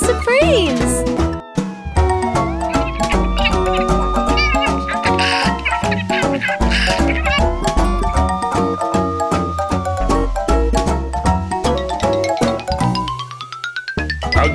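A kitten's meows sit inside a busy, upbeat children's song about a big red fire truck, with singing voices and steady backing music throughout.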